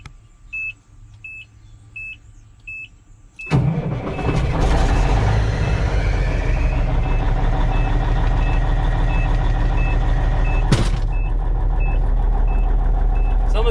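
The diesel engine of a 1991 Peterbilt 379 truck cranks and fires up after warning beeps, then settles into a loud, steady, deep idle rumble close by.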